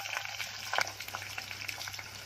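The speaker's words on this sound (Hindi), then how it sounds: "एक बड़ा सा प्याज काट के डाली हूँ। अब इसको भूनूंगी।" A large sliced onion with a few pieces of green chilli fries in hot oil as tempering, giving a steady, continuous sizzle with a few brief scraping stirs and no voices.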